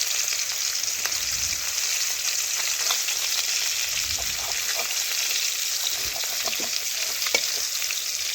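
Silver carp pieces fry in a pan with a continuous bright sizzle, while a spatula scrapes and turns the fish in scattered clicks and scratches.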